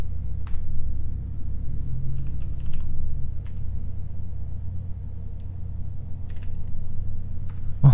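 Scattered keystrokes tap on a computer keyboard in short irregular bursts, fairly quiet over a low background hum.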